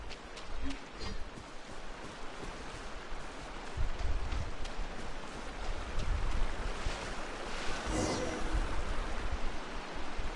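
Small waterfall in the video game Genshin Impact, a continuous rushing, splashing water roar with a windy, surf-like texture, steady and fairly loud throughout with no voices.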